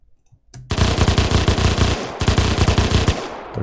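Extremely rapid automatic weapon fire from a game sound test in Unreal Engine, about 30 shots per second, a loud dense stream of shots that stops briefly and restarts, starting after a short quiet lead-in.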